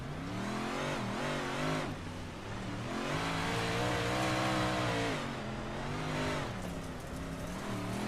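An iRacing race car engine drones steadily and loud, its pitch dipping and rising as the throttle eases off and builds again.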